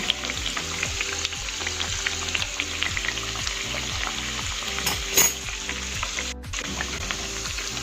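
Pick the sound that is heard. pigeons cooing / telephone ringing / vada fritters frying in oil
vada fritters frying in oil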